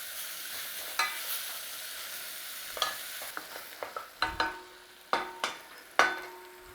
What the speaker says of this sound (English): We want to be softening up these onions in there.